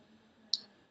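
A single sharp computer mouse click, faint and brief, standing alone against near silence.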